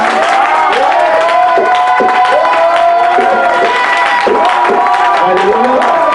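A church congregation erupts in loud, sustained cheering and shouted acclamation, many voices overlapping in a dense, joyful roar that carries through the whole clip.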